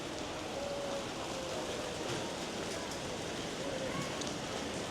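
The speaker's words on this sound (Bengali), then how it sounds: "একটু আগে রৌদ্র ছিল আর এখন বৃষ্টি পড়তেছে" Steady rain falls in Singapore, a dense, even hiss of drops on surfaces that holds constant from start to end, fairly soft and with no voices over it.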